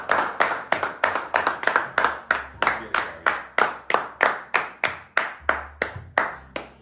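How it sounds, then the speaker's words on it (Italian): Several people clap hands in a steady, even rhythm, roughly three claps per second, close and crisp over a few seconds, with no talk. "Visto che alle persone non piace quando applaudiamo"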